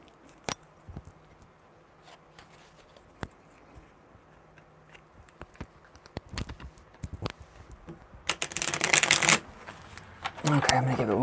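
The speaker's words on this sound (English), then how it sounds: "I'm gonna give it one more good shuffle" Tarot cards being shuffled, with brief scattered taps and flicks early on, then a loud dense riffle burst near the end followed by another shuffling rustle.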